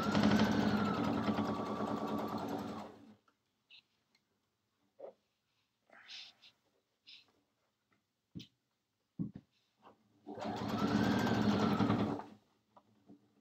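A sewing machine stitching down quilt binding runs in two bursts, a near, steady whir for about three seconds, then a pause filled with small clicks and fabric handling, then a second run of similar length.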